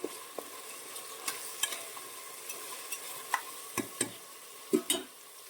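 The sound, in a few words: sautéing coarse ginger-garlic paste with turmeric and chilli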